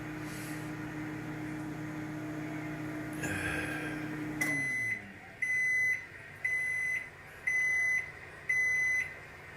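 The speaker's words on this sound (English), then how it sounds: "I can remember when the sound of that microwave would freak him out" A microwave oven hums steadily for a few seconds, then stops and gives a series of five evenly spaced, clear electronic beeps, close and moderately loud in a quiet room.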